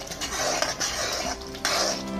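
A metal spoon scrapes and clinks against a pan while spices are stirred into a gravy for potato curry, close and steady over a few seconds with no talk.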